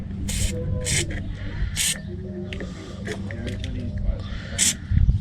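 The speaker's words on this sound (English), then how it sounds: "give it the spray with WD" Several short hissing spray bursts from a WD-40 aerosol can onto an exhaust hanger of a Volvo V70 2.4, spaced irregularly, over low mechanical background noise and a voice talking.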